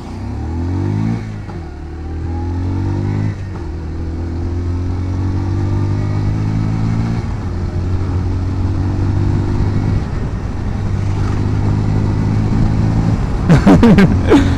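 A 2025 Bajaj Pulsar 125 Neon motorcycle with a 125cc engine pulls away and accelerates through its gears. The engine note climbs and drops back at each shift, loud and close, before a brief rougher burst at the end.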